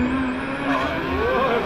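Car drifting at a custom motor show, with a loud engine whine and tyre squeal sliding in pitch close by, and voices underneath.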